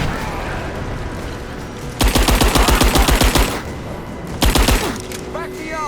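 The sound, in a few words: gunfire in Rise of the Tomb Raider video game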